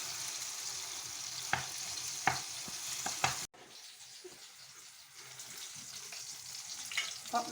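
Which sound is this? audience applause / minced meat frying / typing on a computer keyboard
minced meat frying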